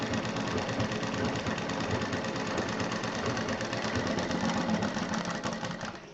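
A sewing machine stitches fabric for a round centre table cover, running continuously with a fast, even mechanical clatter from start to finish and trailing off at the very end.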